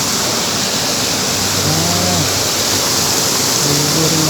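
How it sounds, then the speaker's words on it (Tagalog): A flowing stream along a hiking trail at Segundo Camp in Naic, Cavite, gives a steady, loud broadband rush of running water, with faint low cattle-like calls rising briefly over it. "Yun, yung batis dito."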